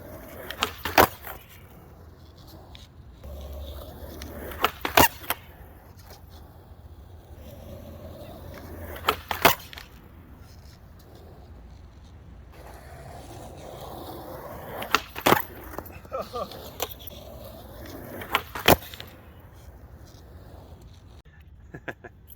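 A skateboard rolls along pavement while a rider attempts backside bigspin tricks, with a steady grinding roll broken by sharp pops and clattering landings roughly every few seconds, up close.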